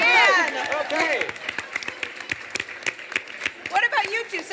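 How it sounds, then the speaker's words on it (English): Dinner party guests briefly applaud and cheer over fresh cilantro, a short burst of clapping with talk running underneath and a voice rising again at the end. "can I have some applause"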